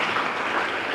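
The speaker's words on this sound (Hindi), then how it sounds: "सभी बेटियां जो है तालियां बजा करके उनका अभिनंदन करें" Schoolgirls applaud together to welcome a guest at a school gathering, a dense, steady wash of many hands clapping that stays loud and even throughout, with no speech over it.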